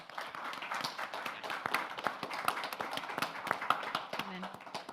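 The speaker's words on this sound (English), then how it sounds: "give the whole panel a round of applause" Audience applause for a panel at the close of a talk on AI, with scattered claps tapping through, light and fairly close, over a murmur of speech and a brief low tone near the end.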